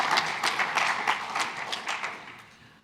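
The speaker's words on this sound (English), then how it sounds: "Oh, and a round of applause too" Audience applause at a scientific award ceremony for the John Kendrew Award, a dense steady patter of many hands clapping that gradually fades toward the end.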